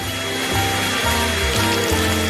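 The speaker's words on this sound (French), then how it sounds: "je vais utiliser le sèche-cheveux" A hair dryer blows steadily and loudly throughout, a constant rushing whoosh with a humming motor drone that shifts slightly in pitch every half second or so.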